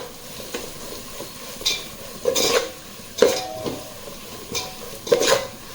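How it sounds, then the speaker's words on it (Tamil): Onions with chili powder are sautéed in a pan for beef biryani. A utensil stirs and scrapes in irregular strokes over a soft, continuous sizzle, with several sharp clinks against the pan. "இப்போ நல்லா வதக்கிக்கோங்க."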